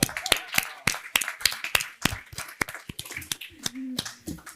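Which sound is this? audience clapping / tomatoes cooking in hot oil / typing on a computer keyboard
audience clapping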